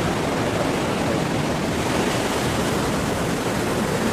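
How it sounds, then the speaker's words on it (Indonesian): Large ocean waves crashing on the southern coast of Java, a loud continuous roar of surf filling the whole stretch with no talk. "Ombak begitu besar"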